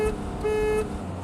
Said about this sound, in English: Pathetic horn.